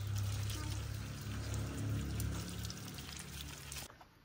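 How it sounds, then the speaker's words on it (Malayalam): Water pouring and splashing over a whole 12 kg mahi mahi fish being washed, a steady close rushing flow that cuts off near the end. "നമുക്ക് ഇനി പുള്ളിക്കാരനെ നന്നായിട്ട് കഴുകി വൃത്തിയാക്കി എടുക്കാം"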